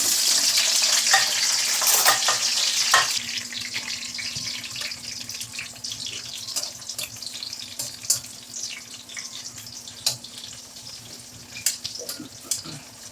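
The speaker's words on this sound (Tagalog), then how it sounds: "habang piniperito natin, yung talong natin" Eggplant (talong) frying in hot cooking oil for binagoongang bangus, a steady close sizzle with scattered crackles and pops that runs the whole time, loudest at the start before easing slightly, with no talking.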